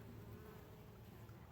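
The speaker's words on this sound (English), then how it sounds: "So we're pretty excited to have these bees here." Gentle, docile bees buzzing in a June garden, a steady, close, continuous hum that holds at an even level throughout with no voices.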